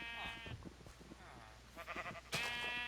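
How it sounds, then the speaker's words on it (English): Sheep in the Minecraft video game bleat several times in short harmonic cries, clear and fairly close, while someone talks over and between them. "And then I'm gonna bring the sheep over here."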